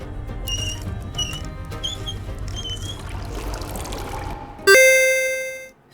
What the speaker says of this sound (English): So we need to put some fuel in the gas can.